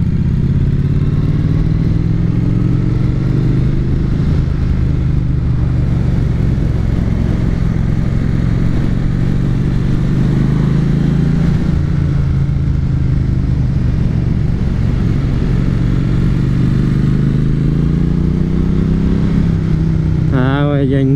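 Triumph Street Twin motorcycle engine running close by, a loud continuous throaty rumble that swells and eases as revs rise and fall, with a voice talking over it.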